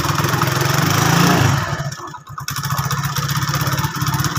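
A motorcycle engine runs loud and close, a rough rapid chugging that dips briefly before settling into a steady idle.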